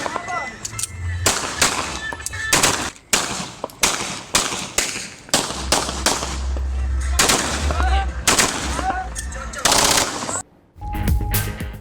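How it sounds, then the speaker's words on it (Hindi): Gunfire from news footage of a shooting after iftar in Firozwala, with eight men firing indiscriminately: loud, sharp bursts crack out repeatedly across the whole stretch in rapid, uneven volleys with brief gaps between them. "फिरोजवाला में इफ्तार के बाद फायरिंग की फुटेज 92 न्यूज को मिल गई। 8 अफराद ने अंधाधुंध गोलियां बरसाई।"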